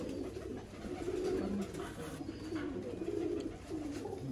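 Soft, repeated low cooing of Teddy pigeons rolls along steadily over a noisy outdoor background, several birds overlapping at moderate distance.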